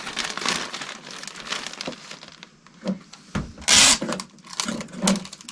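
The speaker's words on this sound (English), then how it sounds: "And we're going to tape it" Packing tape pulled and pressed over the end flap of a plastic shipping bag, close-up crinkling and rubbing with a sharp tearing burst near the middle, no talking.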